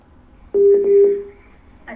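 Telephone line tones as a caller connects to a live astrology call-in broadcast: one loud steady beep of about half a second, broken by brief clicks, then a short faint tone after a gap.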